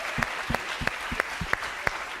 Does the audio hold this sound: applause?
yes